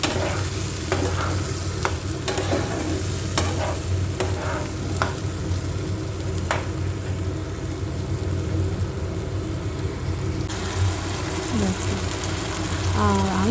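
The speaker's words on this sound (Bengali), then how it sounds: "পেঁয়াজ ক্যাপসিকাম মোটামুটি হাফের বেশি ভাজা হয়ে গেছে। এবার এটাকে ভালো করে কষাবো" Onion and capsicum sizzle in oil in a pan while a utensil stirs them with repeated scraping strokes, a steady close frying hiss throughout with a low background rumble.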